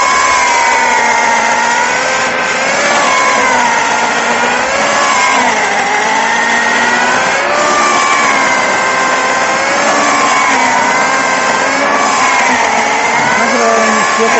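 A saw cuts through firewood logs outdoors in the countryside while preparing for winter, a loud continuous motorized whine with wavering pitch that rises and falls steadily throughout, no voices heard.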